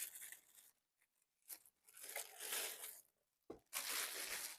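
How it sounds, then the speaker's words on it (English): A plastic piece comes off a VT007 vibration plate exercise machine in short, close bursts of scraping and tearing-like rustle, broken by brief pauses, with no speech. "Now for the plastic piece, we'll take that off."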